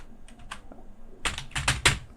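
A computer keyboard clicks as a name is typed into an online polytechnic application form. A few soft keystrokes come first, then a quicker, louder burst of several close-up taps. No one speaks.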